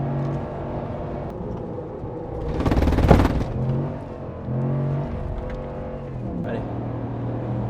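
A RAM Rebel GT pickup with 400 hp accelerates hard during a timed run, engine rising and dipping through gear changes with a loud surge midway, while people talk in the cabin.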